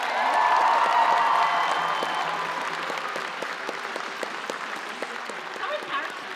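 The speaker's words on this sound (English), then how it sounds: "Everyone give one more cheer for this amazing cosplay." An audience at a cosplay contest at PAX Aus applauds and cheers for a Mandalorian armour costume, a dense wash of clapping loudest at the start and slowly fading, with some voices over it.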